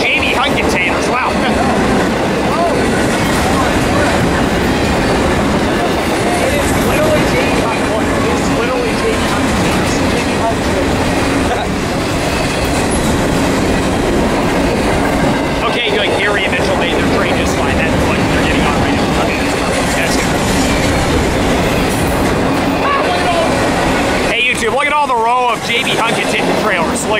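A long BNSF freight train of JB Hunt containers rumbles steadily past close by in Fullerton, continuous wheel noise and clatter, with a brief voice near the end.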